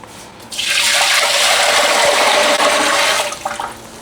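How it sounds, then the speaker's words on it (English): Water gushes loudly from a tap into a big pressure canning vessel being filled to cover pint jars, a steady rushing stream that tapers off near the end. "Gonna fill this up with enough water to cover our pint jars."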